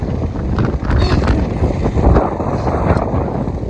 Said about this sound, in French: Mais il y a un peu de vent.